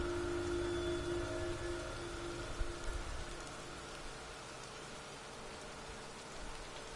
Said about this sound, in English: The rain does feel nice.